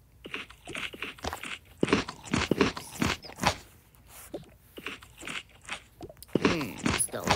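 Crunchy food is chewed close to the microphone, with loud, irregular crunching bites and chews that repeat throughout and a few brief pauses between them.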